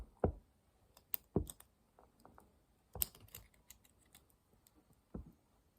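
Sharp metallic clicks and scraping taps, irregular and close, as a knife pries up the metal guard on a lighter, with quiet pauses between.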